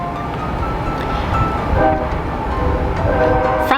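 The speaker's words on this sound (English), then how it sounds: "Train." A train rolls past loudly and close by in a steady rumble with ringing tonal tones, heard from an RV family's travel stop; no talking.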